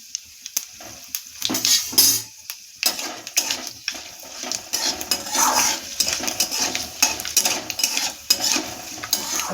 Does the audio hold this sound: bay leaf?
yes